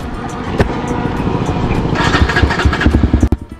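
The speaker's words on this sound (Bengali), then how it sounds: "তার জন্য চিন্তা করলাম যেন চলো বাইকেই বেরিয়ে যাই।" A motorcycle rides along a road, its engine a steady close drone with a rougher, pulsing rumble toward the end, no talk over it.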